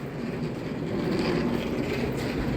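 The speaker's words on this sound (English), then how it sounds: "We're here at Tamworth station this time." A train rumbles at Tamworth railway station, a steady close-up low roar of rolling wheels and engine that holds level for a few seconds with no talk.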